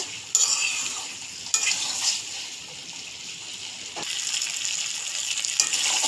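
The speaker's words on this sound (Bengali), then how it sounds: "এভাবে কষতে থাকবো।" Prawns and taro stir-frying in oil, a dense, bright, continuous sizzle with occasional stirring scrapes close to the pan and no talking.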